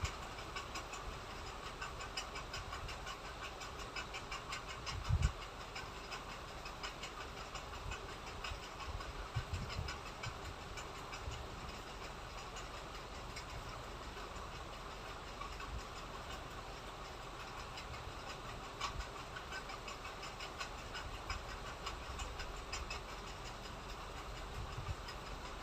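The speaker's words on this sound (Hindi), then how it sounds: "अंदर को फोल्ड करके पट्टी को इस तरीके से दबा के इस पर सिलाई लगा लें।" Sewing machine stitching a fabric strip onto a kurta neck, a steady close whirring hum with a fast mechanical chatter that runs without a break, while a single sharp thump stands out near the start.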